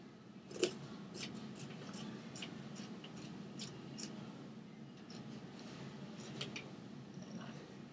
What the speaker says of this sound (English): I'm just going to cut out the armholes